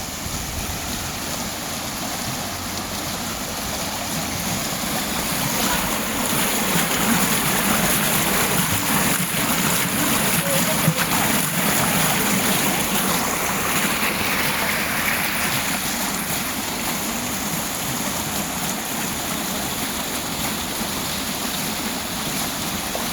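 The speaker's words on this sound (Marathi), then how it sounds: "हे बघा पाणी कसं वाहतंय." Water flowing from a spring at a temple site, a steady rushing wash of moderate loudness that swells slightly midway, with no talking.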